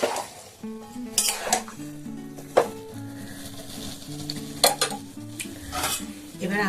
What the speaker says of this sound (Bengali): এটাকে এখন খুব ভালো করে মশলাটাকে কষিয়ে নেব